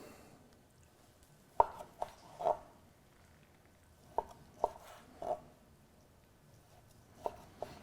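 Knife chopping through cooked steak on a cutting board, a handful of sharp, separate cuts spaced irregularly, close and fairly quiet with near silence between strokes.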